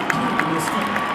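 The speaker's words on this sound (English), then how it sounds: "as the fans cheer him on." Basketball crowd at a Shaker Heights vs. Solon game cheering for an injured player as he gets up, a broad steady roar filling the gym with a few sharper shouts rising out of it.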